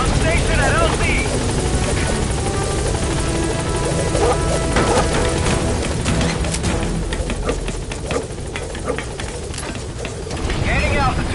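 A helicopter in Metal Gear Solid V: The Phantom Pain climbs and flies off, its loud, steady rotor roar filling the scene with a few impact-like bangs. A radio voice talks over it.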